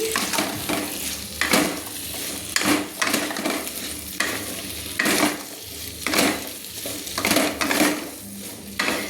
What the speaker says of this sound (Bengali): খুন্তি দিয়ে নেড়ে লাল লাল করে ভেজে নেব এইভাবে আমি সুন্দর করে নেড়ে নিচ্ছি